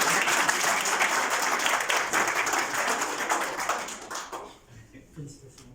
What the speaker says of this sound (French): que vous souteniez vos applaudissements